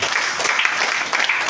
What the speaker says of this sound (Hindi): इसलिए अपने लिए जोरदार ताली बजा दीजिए।